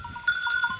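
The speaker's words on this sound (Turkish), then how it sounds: "Bakın şurada size oğlaklarımı da çekeyim." Faint, high-pitched bleats of young goat kids recur in a short run over an outdoor background hum.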